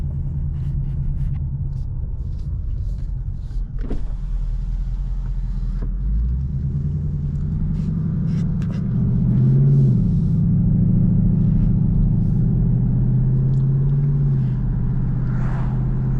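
A Ford Mustang Mach 1 drives by day, its engine a steady low rumble with a swell of revving around the middle, heard from inside the car with no talk.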